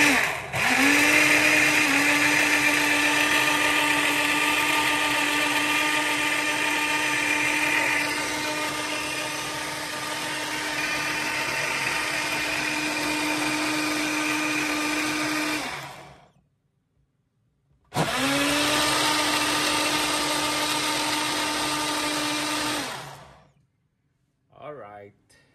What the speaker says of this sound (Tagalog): Blender na po natin ang malunggay.